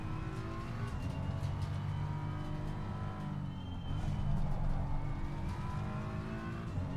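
A GT race car in Assetto Corsa Competizione, driven at full throttle around Kyalami, roars steadily with its engine pitch climbing through the gears. Brief dips mark the shifts, and the car stays loud and close with no talk over it.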